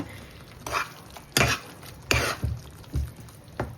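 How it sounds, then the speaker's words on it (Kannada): Fried okra is stirred into a masala in a pan for a curd-based South Indian curry, giving a few scraping, wet stirring strokes at irregular intervals over a low, steady background hiss. "ಇವಾಗ ನಾವು ಫ್ರೈ ಮಾಡಿ ಇಟ್ಕೊಂಡಿರೋಂತಹ ಬೆಂಡೆಕಾಯಿನ ಆ್ಯಡ್ ಮಾಡ್ಕೊತಾ ಇದ್ದೀನಿ."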